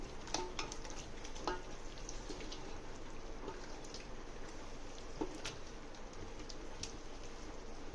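Curd being stirred in a pot for egg biryani: soft scraping and scattered light clicks of a spoon against the pot, quiet and close over a faint background hiss.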